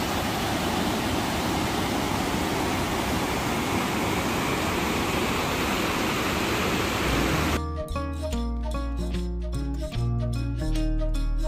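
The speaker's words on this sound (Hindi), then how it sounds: "जबरदस्त पानी आ रहा है और ये पहाड़ों के बीच का दर्रा" Heavy water roars through a mountain gorge in the Himachal Pradesh hills between Chamba and Bharmour, a loud unbroken rush for about seven seconds before music abruptly takes over.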